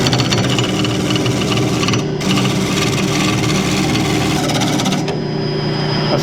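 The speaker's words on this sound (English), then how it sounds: "Lay my tool up on there, you can hear it kind of chattering." A wood lathe spinning a blank for a barber's pole that is not yet fully round, the turning tool chattering against the flat spots in a loud, continuous rough rasp over the motor's hum, with two brief pauses in contact.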